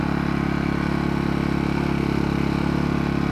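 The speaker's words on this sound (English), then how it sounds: "I'm going to make sure the idle control is off so it's warming up at full idle" An AIVOLT AGen1600c generator engine warms up at full idle with its idle control off, a steady, loud, close-up drone with an even mechanical pulse and no change in pitch.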